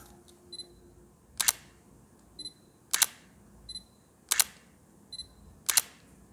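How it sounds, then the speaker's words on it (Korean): A Sony A7C mirrorless camera fires its shutter repeatedly, sharp close clicks in a regular series, each followed by a small rattling wind-down, along with faint electronic beeps between shots. "셔터 소리를 한번 들어볼 건데요"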